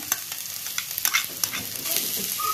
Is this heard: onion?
yes